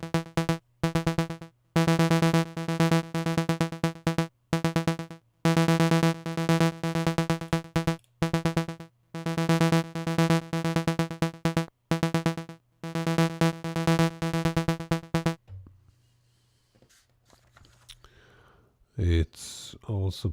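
Massive synth oscillator with its amplitude gated by a 32-step performer pattern, a bright buzzy tone chopped into rapid rhythmic pulses with short gaps, loud and steady, then stopping as a quiet voice begins.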